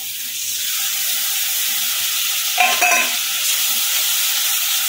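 Poppy seed curry with peanut paste and a little turmeric is stirred in a pan over a steady, soft sizzle, with a brief burst of scraping near the middle.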